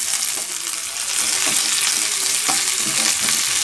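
Vallarai greens and grated coconut are stirred in a hot pan, a loud close frying sizzle with a steady rhythm of spatula scrapes roughly every second.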